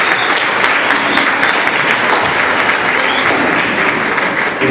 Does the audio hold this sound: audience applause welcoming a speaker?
yes